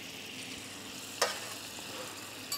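Gamba tails are turned through a sauce in a hot pan for a flambéed crustacean dish, giving a steady soft sizzle with a couple of light utensil clinks, and no voices.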